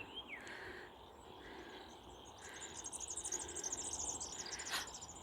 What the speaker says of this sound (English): And I can hear the firetails making the noise they make.